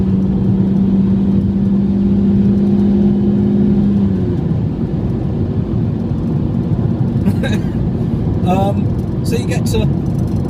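Fiat Grande Punto 1.2 engine pulling hard with the pedal floored, a loud steady drone inside the cabin with a sustained tone that shifts midway, someone talking over it throughout.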